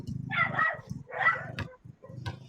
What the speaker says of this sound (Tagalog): Maingay yung aso namin sa kapitbahay.